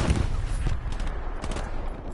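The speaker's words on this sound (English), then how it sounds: "I just got sniped at" Sniper gunfire in a video game, with a heavy, close burst of shots at the start followed by a few sharper cracks inside a loud, noisy game mix.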